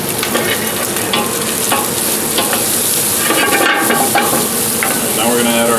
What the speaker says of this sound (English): just looking for the pancetta to start getting a little dark here